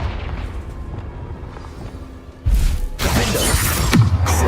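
A Confringo fire spell blast from Hogwarts Legacy, a sudden loud burst midway that swells into a sustained roaring, crackling explosion wash over a low rumbling game ambience.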